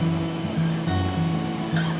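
High river water after days of heavy rain in a tropical forest, rushing as a steady, loud broadband roar that stays continuous and close throughout, with no voices.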